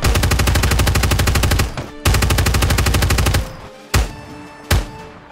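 Rapid automatic gunfire in the Ground Branch tactical shooter, two long loud sustained bursts followed by a few single heavy shots, close and dominant with no talk.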